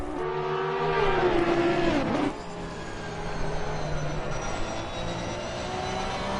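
Porsche and Audi race cars at Donington Park, a loud engine note sweeping past and falling in pitch, followed by continued engine drone from cars further off.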